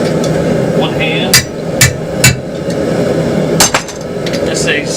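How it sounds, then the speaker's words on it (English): A softened Vulcan hammer strikes hot steel held in a hold-down while forging a wall hook, giving several separate metallic blows at an irregular pace, close and loud over steady shop noise. "This is a softened Vulcan hammer."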